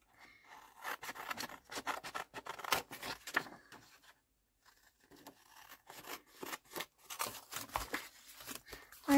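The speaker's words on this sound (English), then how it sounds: "Let's cut around here." Scissors cut around a paper page for a December Daily scrapbook, heard as quiet, close snipping and rasping strokes in two bursts with a short pause between.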